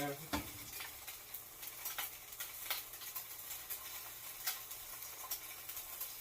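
Garlic and ginger fry in hot oil for beef lo mein, a close, continuous sizzle broken by repeated sharp scrapes and clacks of stirring.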